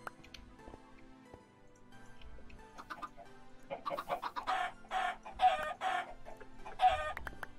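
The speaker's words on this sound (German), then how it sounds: "Somit haben wir ein paar Hühner schon mal." Chickens in the modded Minecraft pack Stoneblock cluck in quick bursts, sparse at first and then a busy run of repeated clucks that grows louder toward the end.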